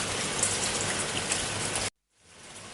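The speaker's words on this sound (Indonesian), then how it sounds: "Kemudian turunlah menjadi titik-titik hujan yang turun dari langit ke" Steady rain falls as a dense, even hiss for almost two seconds, then cuts to a brief silence before fainter rain returns.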